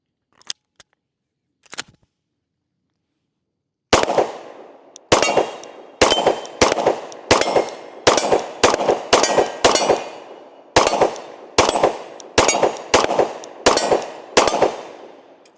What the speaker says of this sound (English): Let's go ahead and take a few more shots with her.